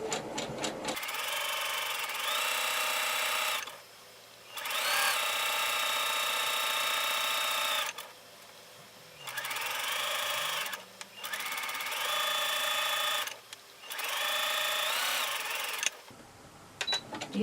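A domestic sewing machine stitches along a fabric edge while a blouse is made, its steady whirring hum running in long bursts with short pauses between, loud and close, with no voices.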